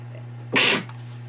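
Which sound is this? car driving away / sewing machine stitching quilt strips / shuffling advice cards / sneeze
sneeze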